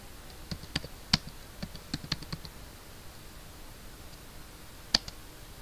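Typing on a computer keyboard while entering SQL commands into MariaDB: a sparse run of sharp, close key clicks, a quick cluster at first, then a pause and a single later tap, over a quiet background.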